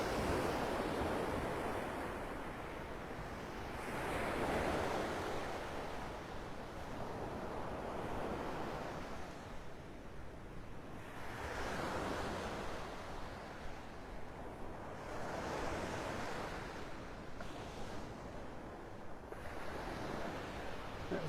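Ocean waves breaking on the beach at Delnor-Wiggins in Naples, Florida, a rolling surf with several broad swells cresting every few seconds under steady wind noise, fairly close.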